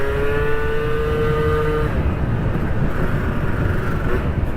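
A 50cc two-stroke Yamaha Aerox scooter on a test ride in traffic, its buzzing engine note droning steadily up close with a high whine that drops away midway, under constant rushing road and wind noise.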